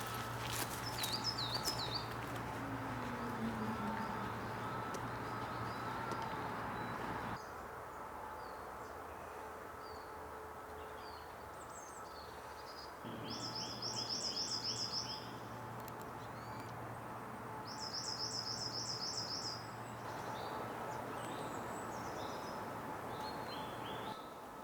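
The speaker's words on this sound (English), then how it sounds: "the birds certainly prefer the black sunflower seeds. Now, I don't mind at all losing a bit of feed to songbirds." Songbirds twitter at an outdoor feeder stocked with black sunflower seeds, with short bursts of high chirps coming and going against a steady low background hum from a hide.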